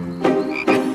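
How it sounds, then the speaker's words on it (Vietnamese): Two loud, close croaks from cartoon frogs, each a short buzzy rasp separated by a brief pause, with no talking. "lũ ếch. Chúng kêu ầm ĩ thế này"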